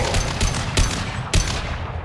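Heavy sustained gunfire in a Mass Effect 2 firefight, a dense crackling barrage with three sharp, loud bursts standing out at regular intervals over constant noise, no talking.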